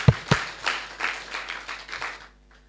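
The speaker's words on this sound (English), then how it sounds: "I just want to give you a big round of applause." A brief scatter of hand claps, a few sharp ones up front followed by softer, uneven clapping that fades out after a couple of seconds.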